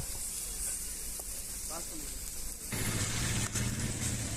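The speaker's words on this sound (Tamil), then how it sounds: "ஓகே நல்லா சூப்பராக வதங்குது அந்த பொட்டேட்டோ வாசமும் செம்மையாக இருக்குங்க" Potatoes sautéing in a pan for a potato omelette give a soft, steady sizzle that grows louder and denser partway through, with no talking.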